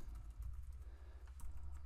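Soft keystrokes on a computer keyboard come in quick, irregular bursts, faint and close, over a low steady hum, with no speech.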